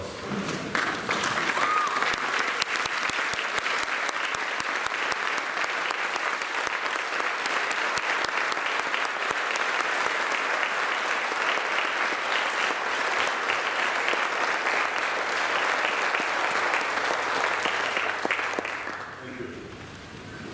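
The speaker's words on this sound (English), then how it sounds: "the audience should stand up and give them a round of applause." An audience at a senior chapel ceremony rises for a standing ovation, with loud, dense, steady applause that holds for nearly twenty seconds before tapering off at the end.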